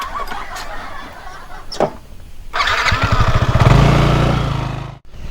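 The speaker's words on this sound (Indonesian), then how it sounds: "Ini kenapa motor ini?" A motorcycle engine cranks and catches, then runs with a loud, steady rumble for a couple of seconds before cutting off abruptly; no talk over it.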